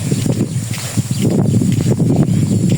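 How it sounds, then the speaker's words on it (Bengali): Strong wind buffets the microphone in a steady, rumbling roar with gusty low thumps, loud and continuous throughout. "অনেক বাতাস আজকে"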